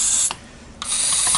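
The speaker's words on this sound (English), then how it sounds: "I'm going to spray some on the crankshaft." Assembly lube is sprayed from an aerosol can onto a 70cc two-stroke engine crankshaft in two short hissing bursts with a brief pause between, close and fairly loud.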